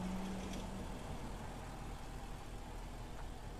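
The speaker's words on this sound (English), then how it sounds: "with that engine running and hitting the gas, I could really just listen to it all day" The engine of a 2016 Jaguar F-Type R runs at a steady, full idle that stays broadband and constant throughout.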